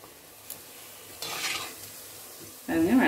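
Vada fry in hot oil with soft sizzling and bubbling, brief stirring clinks, and a louder burst of frying and scraping at the end.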